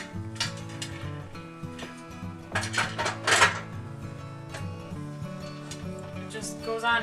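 Metal lid set onto a pressure canner holding jars of home-canned venison, then turned to lock, giving clanking metallic knocks and a brief scraping rattle near the middle, close and fairly loud, with no talk.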